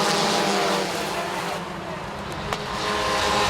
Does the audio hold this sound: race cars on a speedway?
yes